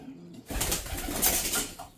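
Racing pigeons, hens and a dropper bird, coo softly and flutter close by before a training toss, a low burbling murmur over rustling movement.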